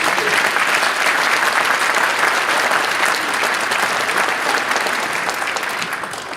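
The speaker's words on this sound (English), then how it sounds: "I think that deserves a round of applause for the work that" A steady, full round of audience applause at a teacher-of-the-year ceremony, dense clapping held evenly for several seconds before tapering slightly at the end.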